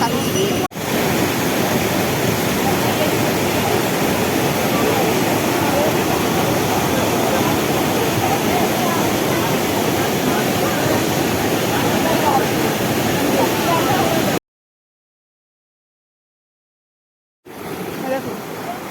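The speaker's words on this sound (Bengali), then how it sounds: "দেখুন ওইখান থেকে জল আসছে, এই গিয়ে চলে আসছে জল।" Water rushing steadily through a stream at Panchalingeswar temple in Balasore, Odisha, a loud continuous roar close by that runs unbroken, cuts out for a few seconds, then resumes.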